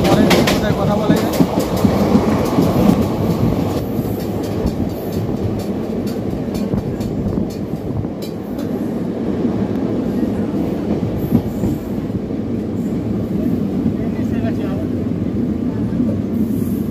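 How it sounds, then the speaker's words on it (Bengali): Aboard the Shahid Express superfast train running between Howrah and Rampurhat, a loud continuous rumble with rhythmic clickety-clack and occasional wheel squeal carries on throughout, with faint voices in the background. "এবারে ট্রেন ছেড়ে দিয়েছে"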